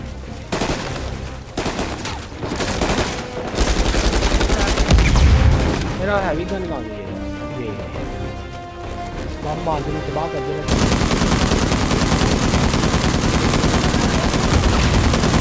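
Gunfire in the Uncharted 4: A Thief's End video game, a run of loud shots and bursts over dense game music and effects, with someone talking over parts of it.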